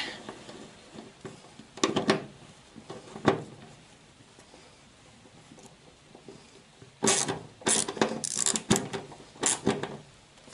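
Quick mechanical clicks and ratcheting on a Citroën Traction 11B fuel tank fastener being tightened, short bursts at about two and three seconds and a denser run of near, sharp clicks from seven to ten seconds.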